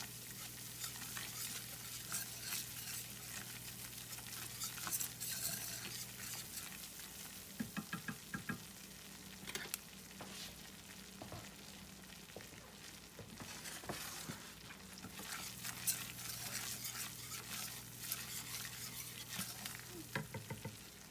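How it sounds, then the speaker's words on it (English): Flour cooks in a small amount of oil while a spoon stirs and scrapes the pan, giving a soft, continuous sizzle with intermittent scraping taps. "you're just going to let your flour cook a few minutes in that little bit of oil"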